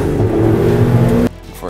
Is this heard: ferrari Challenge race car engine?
yes